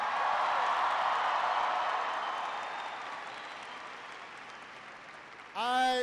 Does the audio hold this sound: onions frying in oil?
no